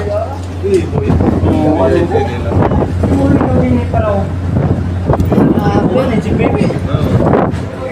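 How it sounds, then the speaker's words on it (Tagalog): Strong wind at Jolo Port during a collision between two ships, a loud constant roar buffeting the microphone while people talk over it. "sobrang lakas ng hangin, oh"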